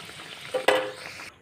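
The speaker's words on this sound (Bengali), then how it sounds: "এগুলোকে আমি উল্টো পাল্টে ভেজে নেব সেম পদ্ধতিতে" Palm-fruit fritters (taler pithe) frying in hot oil, giving a soft steady sizzle that swells into a louder crackling burst midway, probably as the fritters are turned, before it dies away.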